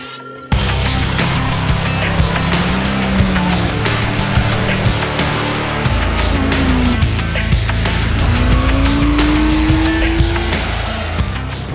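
A car laps the tight Cartland race circuit, its engine loud and close throughout, with rising pitch sweeps as it accelerates through gears and heavy revving out of corners.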